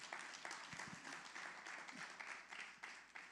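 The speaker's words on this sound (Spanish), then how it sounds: "Dale un aplauso al Señor," A church congregation claps together during a service, a soft, steady patter of many hands with a few sharper claps standing out, faint and somewhat distant.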